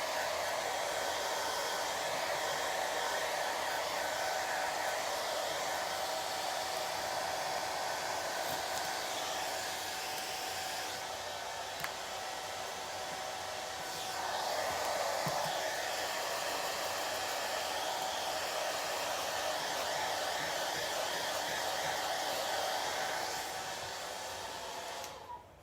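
A hair dryer blows steadily on a freshly washed item, a loud continuous close whoosh with a constant motor whine that shifts slightly as it moves, then cuts off at the end.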